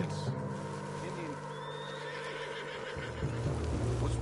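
In Red Dead Redemption 2, a horse whinnies over a constant background of hoofbeats and ambient noise, the neigh standing out clearly before the scene continues.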